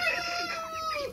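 Broiler roosters cluck and crow close by in a short burst of overlapping, rising and falling calls with no talking.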